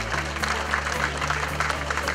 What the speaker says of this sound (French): On les applaudit tous les deux, s'il vous plaît